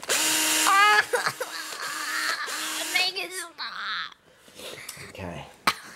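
A dental drill drills into jawbone in several short, close, high-pitched whirring bursts with stops between them, followed by quieter clinking and shuffling and a voice in the background.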